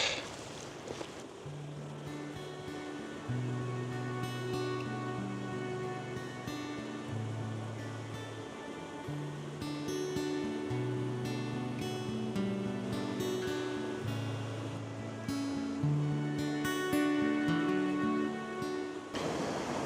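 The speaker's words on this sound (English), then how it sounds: "we're going to have a lot of noise from all of this waterfall" A waterfall in a valley landscape rushes as a steady, broad wash of water noise, partly covered by melodic background music throughout.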